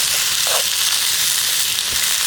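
White onions sweating in a pan outdoors on camping gear, giving a steady, loud hiss and sizzle with a few faint stirring clinks.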